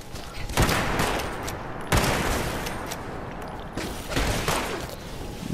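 Gunfire in the video game Fallout 76, several loud close shots and bursts with rolling echo, separated by short gaps over a constant noisy game background.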